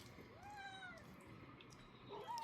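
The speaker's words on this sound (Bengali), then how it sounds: "এই ওপাশে অনেক বিড়াল আমাদের এখানে।" A cat meows near an outdoor chicken barbecue, with one drawn-out meow and a shorter rising one at the end, both fairly faint over low background noise.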